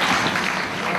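Dense, steady crowd cheering and applause from an Irish Whip Wrestling audience fill the whole second, loud and continuous with no single voice standing out.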